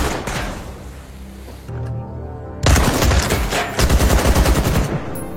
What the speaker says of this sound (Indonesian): ia kemudian menguji senjata itu dan menembakkannya pada sebuah drum